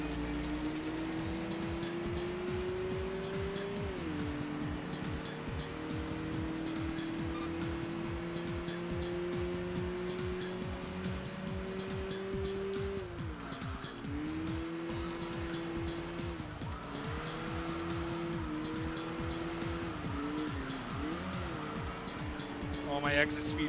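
A race car's engine drones loudly and continuously in the racing video game Enthusia, its pitch rising and dropping through gear changes, with tires squealing through corners and a voice talking over it.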